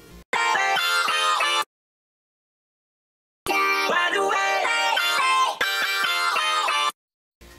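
A vocoder vocal-chop melody loop from a Cymatics sample pack, bright robotic sung notes in choppy rhythmic phrases, playing in two loud sections separated by a gap of silence.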